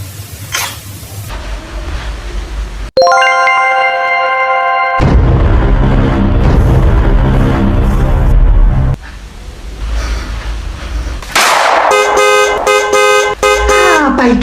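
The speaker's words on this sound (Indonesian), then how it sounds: "Apa itu orang klakson-klakson?" Car horns blare repeatedly, some long sustained blasts and some short rapid honks, loud and close amid engine and traffic noise.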